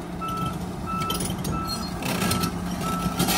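Steady repeating reversing alarm beeps from an excavator backing up outdoors, loud and close over a constant diesel engine rumble, with no talk.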